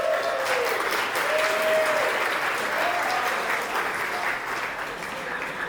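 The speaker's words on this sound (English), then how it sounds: "let's give a big round of applause to the City of Gold Coast," An audience at the 2025 Australian Young Entrepreneur Awards applauds the City of Gold Coast, a sustained, full wash of clapping lasting several seconds at steady loudness, with faint voices and a brief tonal sound drifting over it.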